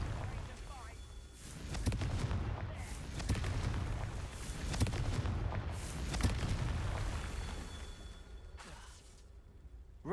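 Confringo blasting spells burst repeatedly in Hogwarts Legacy, giving heavy booming explosions and whooshes. The blasts come in uneven succession over a rumbling background, with a voice speaking at times.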